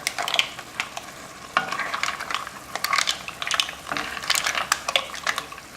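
Mussels with chorizo are stirred around in a pot, making a close series of wet clinks, scrapes and shell rattles over a soft simmering sizzle, with bursts every second or so and no talk.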